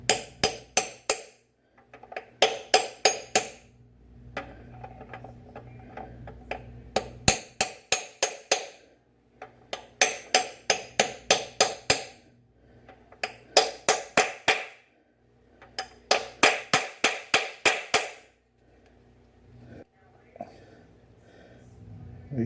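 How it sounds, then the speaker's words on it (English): Socket tapped against a transmission seal on a Chevrolet Cavalier's 4T40E gearbox, heard as quick bursts of sharp metallic knocks in several rhythmic clusters separated by short pauses, close and fairly loud. "slowly tap it in place"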